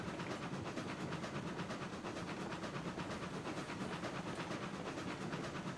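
A steady rumbling train in the video game Railroads Online runs continuously with a rhythmic clatter and hiss, loud and even throughout, with no talking.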